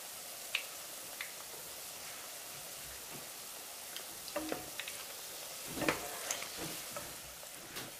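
Korean eomuk fish cakes frying in slightly too-hot oil give a steady soft sizzle with scattered pops and crackles, heard close and alone.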